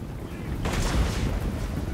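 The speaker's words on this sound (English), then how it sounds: "I think they're firing at the Goblobber crew in return" A heavy boom of artillery fire erupts in a Warhammer fantasy battle game, with dwarf cannon crews trading shots against a goblin Goblobber, the blast rising from a rumbling backdrop and rolling off over about a second.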